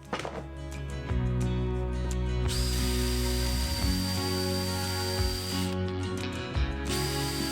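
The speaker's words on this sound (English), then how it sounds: "you can just use a marker with the drill running" An electric drill whirs steadily at high speed while drilling a wooden drinks cooler box, pausing briefly and restarting, with a few clunks of the tool being handled nearby.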